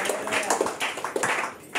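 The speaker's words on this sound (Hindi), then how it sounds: "ताली बजाकर प्रभु को धन्यवाद करेंगे।" A church congregation claps their hands in thanks to the Lord, giving a burst of quick, uneven claps from many people close by, dense and lively for under two seconds.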